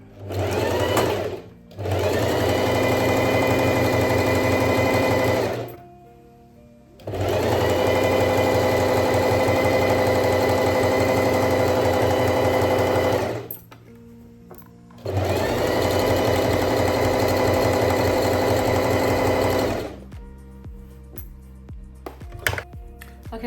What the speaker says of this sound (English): we're now going to just stitch with a 1 centimeter seam allowance all across the gap